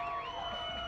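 Faint crowd cheering and whooping from onlookers as Chicago firefighters bring a parrot down from an office-building ledge, a brief distant wash of voices.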